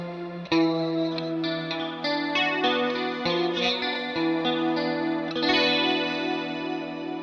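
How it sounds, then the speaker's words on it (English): A stereo octo reverb from Line 6 Helix Native washes over a sustained, chorused electric guitar, with bright shimmering octave tails and repeated note attacks ringing out, moderately loud and alone without voices. "Next we have this stereo octo setting, which is using the octo reverb."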